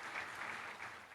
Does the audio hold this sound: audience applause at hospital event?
yes